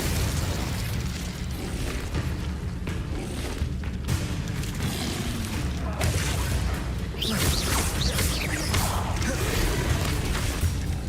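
Hogwarts Legacy fire spells such as Incendio and Confringo go off in a rapid string of whooshing blasts, bursts and booms, loud and continuous, with spell incantations spoken over the effects.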